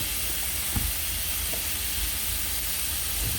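Seafood sears in a pan with a loud, continuous hiss and sizzle and a couple of faint low knocks.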